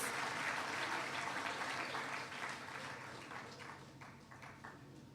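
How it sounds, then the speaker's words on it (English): An audience at a school debate event applauds the winners of last year's debate, a dense, steady wash of clapping that starts strong and slowly tapers off, with no voices over it. "Round of applause to the winners of last year's debate"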